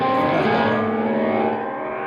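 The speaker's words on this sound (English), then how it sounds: "from there I go into a Earthquaker Devices Rainbow Machine" A sustained, shimmering electric guitar tone through an EarthQuaker Devices Rainbow Machine pitch-shifting pedal, with warbling modulation, ringing out and slowly fading.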